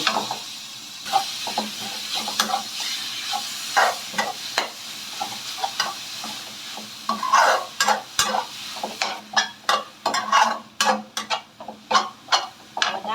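Beef pieces stir-fried in a hot pan with chili and garlic for a Thai water-mimosa noodle dish, a steady sizzle broken by repeated scraping and clattering strokes of a spatula that grow louder and quicker toward the end.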